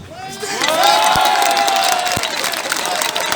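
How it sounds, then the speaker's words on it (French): A crowd at a street protest against coronavirus measures in January 2021 cheers and applauds a restaurateur, a loud, sustained mass of clapping, shouting and whistles. "Je vous prie d'applaudir Stéphane Lara"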